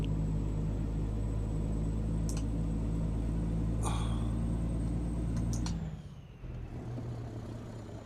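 A Kenworth W900 truck engine in American Truck Simulator drones steadily as it pulls uphill under load, a loud continuous low rumble with a couple of brief hissing bursts, then the pitch drops and dips around a gear change before the drone resumes.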